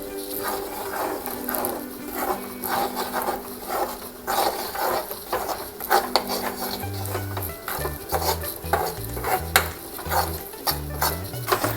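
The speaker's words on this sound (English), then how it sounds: "So here goes the wheat flour, and roast it properly now." Wheat flour roasting in ghee in a pan for atta halwa while it is stirred, with continuous close scraping and rubbing strokes in a steady rhythm and a soft sizzle underneath.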